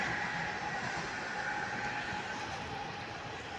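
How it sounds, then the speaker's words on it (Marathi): A local train passes at a distance, heard as a faint, steady rumble and rattle of rail cars that runs the whole time, with no voices over it. "लोकल चालले"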